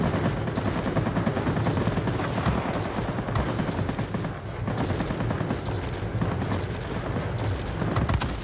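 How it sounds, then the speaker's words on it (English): The 30 mm cannons of a Me 262 fire in World of Warplanes in dense, rapid bursts. The gunfire stays continuous and loud over a rumbling engine bed, with no pauses. "on the 262, the 30 mil cannons there are pretty quick"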